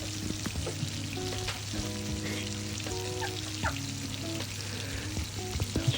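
Pieces of hilsa fish fry in hot oil in a pan, giving a continuous close crackling sizzle with small pops, alongside a faint steady tonal hum, and no one speaks.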